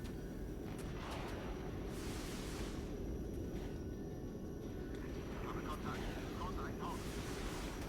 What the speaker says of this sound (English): Here comes an airstrike, which is quite bad for us.